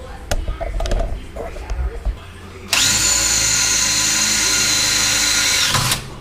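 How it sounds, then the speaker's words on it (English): A power drill whirs steadily for about three seconds, drilling a hole to bolt a muffler hanger on a 1965 Catalina, after some background talk and clatter, then stops abruptly. "Drill me a hole through there to bolt my hanger up to."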